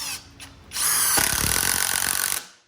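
SKIL PWRCore 20 impact driver sinking T25-head deck screws into wood: a short whir, then one loud, continuous rattling hammer burst of about a second and a half that stops abruptly.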